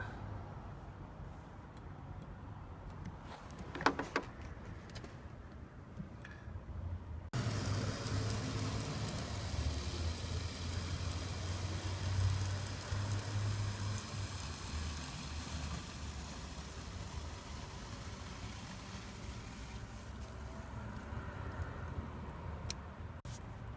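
A VW Touareg's left-side fuel pump switches on after a few quiet seconds with faint clicks, then runs as a steady whirring hum with a broad rushing wash of fuel flow, continuous and close for the rest of the stretch.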